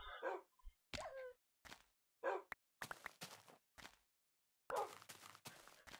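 Baby wolves in Minecraft whimper and yelp in short, separate bursts, quiet and close, with silent gaps between the cries.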